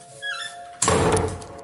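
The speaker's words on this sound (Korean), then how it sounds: "그의 등 뒤에서 방문이 쾅 소리를 내며 닫혀버렸습니다." A faint creak gives way to one loud, close door slam that booms briefly and then fades.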